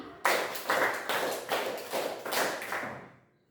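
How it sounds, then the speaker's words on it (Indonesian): A classroom of students claps in unison, several sharp group claps in a steady rhythm, fairly close and loud, fading at the end. "Tepuk 3 2 kali."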